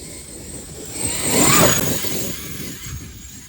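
A Traxxas X-Maxx RC truck fitted with Vitavon 1.5 mod gears makes a flyby outdoors. Its electric motor whine rises to a loud peak as it passes close, then fades away.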